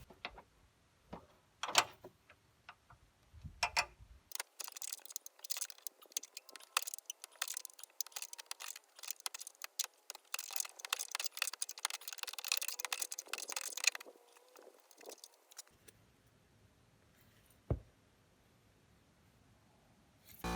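Short ratcheting throws of a wrench working loose an 18 mm front bolt on a Trailblazer/Envoy shock strut, heard as a dense run of quick metallic clicks and ticks close by, preceded by a few sharper knocks and ending in quiet handling sounds.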